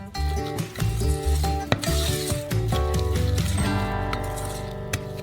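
A pot of white chocolate melted into hot cream with dried raspberries is stirred, with scraping, light clinks and faint bubbling in a steady stream, close and fairly quiet.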